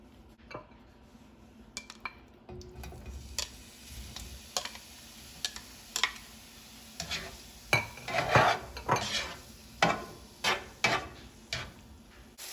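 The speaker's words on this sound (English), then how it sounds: "I'm going to start off by sauteing the tofu and the mushrooms" Tofu and mushrooms cooking in a tablespoon of oil in a pan over medium heat: quiet sizzling under a run of sharp utensil clicks and scrapes against the pan, growing busier and louder toward the end, with no voices.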